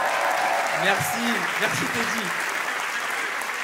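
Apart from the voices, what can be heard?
audience applause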